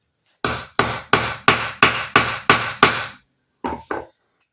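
A hammer strikes sharply eight times in a steady rhythm, punching a hole in a motorcycle gasket, then two lighter blows follow after a pause.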